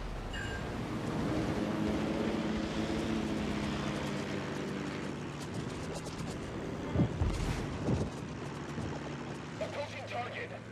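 Fighter planes launched in a naval battle game drone past with a steady propeller roar, mixed with ship engine rumble and game effects, while a synthetic voice gives commands over it.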